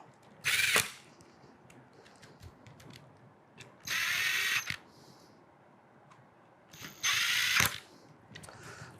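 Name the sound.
tightening lock screws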